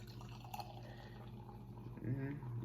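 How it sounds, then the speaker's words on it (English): Dry cider from a can pours into a glass, giving a short liquid gurgle and fizz that rises near the end of the clip, with a voice talking softly in the background. "I'm going to crack it open and get a pour on this thing"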